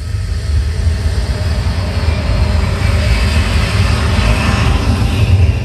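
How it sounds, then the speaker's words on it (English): A deep, steady jet engine roar played through a bedroom home theater system, with heavy low rumble and a hissing upper layer, loud and continuous throughout, with no voices. "to the thunder of a jet engine."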